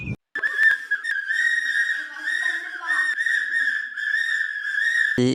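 Several shrill whistles are blown over and over by people at a political party gathering, a loud, steady piercing tone broken by short bursts, with faint voices underneath.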